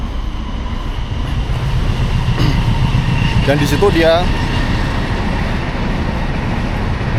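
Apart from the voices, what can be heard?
train sound effect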